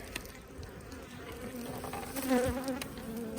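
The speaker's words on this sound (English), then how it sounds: "Oh yeah, the bees are all down in the hive." Bees buzz inside an opened hive, a soft, continuous hum of many insects, close by and fairly quiet, with light irregular tapping underneath.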